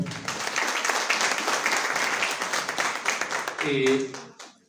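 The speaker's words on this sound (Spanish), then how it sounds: "De los aplausos, por favor" Audience at an education congress applauds as an invited speaker is introduced: a sustained round of many clapping hands in a hall, moderately loud, fading out near the end as a voice begins speaking.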